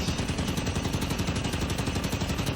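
A mounted machine gun turret fires on the Cannon Canyon map in Halo 5, a loud, unbroken stream of rapid, evenly spaced shots lasting the whole stretch.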